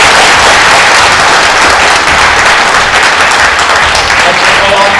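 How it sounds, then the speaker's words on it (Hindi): An audience at a Hindi spiritual discourse claps loudly on cue, a dense, continuous wash of many hands filling the whole stretch at full volume, close and overwhelming, with no speech on top. "एक बार जोरदार ताली बजाओ।"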